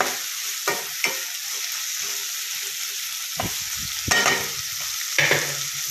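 Black nightshade greens stirred and roasting in a hot pan, a steady sizzle with a few scraping strokes of the spoon breaking through, close and alone without talk.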